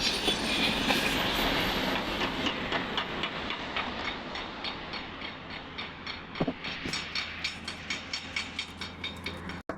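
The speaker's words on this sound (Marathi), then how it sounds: "ट्रेन चालले." A train runs along the rail line at Kasara Ghat, its wheels beating a steady clickety-clack rhythm over the joints, loud and close, with a sharp metallic bang midway and no talk.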